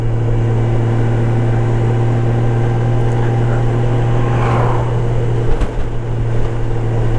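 A red 2012 Honda Gold Wing motorcycle cruising along, its engine giving a steady, loud low drone with a constant hum and faint rushing wind throughout.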